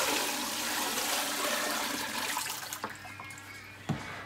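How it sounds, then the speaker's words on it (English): Water poured out of a photographic developing tray while washing a cyanotype print, a steady close splashing rush that thins toward the end, followed by a couple of sharp knocks as the tray is handled. "what I'm going to do now is actually pour this water out that's in here"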